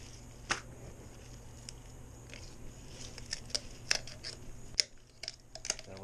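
A knife crunches through fish bones and ribs during filleting, a series of faint, irregular crackling snaps and cuts over a low steady background hum, close up.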